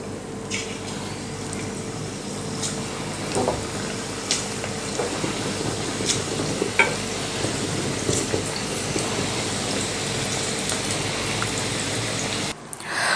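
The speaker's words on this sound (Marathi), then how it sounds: "आणि अशाच पद्धतीने आपण बाकीची भजी सुद्धा करून घेऊया." Crab-style onion kanda bhaji, made without water, frying in hot oil with a steady, dense sizzle and bubbling hiss that runs unbroken and close for the whole stretch, with no one talking.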